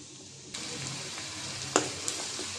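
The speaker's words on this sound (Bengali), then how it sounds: "পেঁয়াজ কুচি দিয়ে দিলাম।" Chopped onion hits hot oil in a wok and starts sizzling at once, a steady soft hiss with a couple of sharp crackles and a stir.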